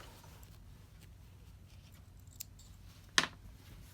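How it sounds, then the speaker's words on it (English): Scissors trim sewing threads after machine appliqué on a Christmas mug rug, giving one short crisp snip near the end with a fainter snip just before it, over a quiet room hum. "Then I go ahead and just trim my threads."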